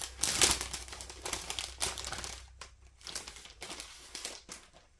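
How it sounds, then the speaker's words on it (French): A plastic sachet from a cross-stitch kit is handled and torn open up close, giving bursts of sharp crinkling and crackling that fade into quieter rustles toward the end. "ça fait encore du bruit parce qu'il y a encore un sachet"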